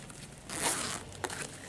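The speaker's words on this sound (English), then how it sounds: "a zipper pocket sewn in here. It's not a metal teeth zipper" Close-up zipper on a tote bag's sewn-in pocket, a non-metal-teeth zipper: one rasping pull of about half a second, then a brief sharp second tug.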